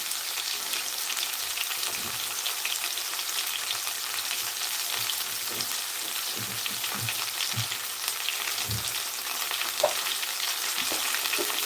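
Fresh ginger paste frying with mint, carrots, potatoes, tomatoes and whole spices for toor dal khichdi, a steady close sizzle with occasional stirring scrapes throughout.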